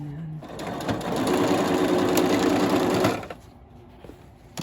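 A sewing machine runs a straight stitch through fabric for a padded journal cover, giving a steady fast whir for about two seconds that then stops. The machine is close and loud in a quiet room.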